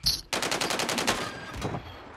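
Rapid automatic gunfire in Call of Duty rattles in a quick burst of repeated shots, loud and close, after a short sharp sound at the start.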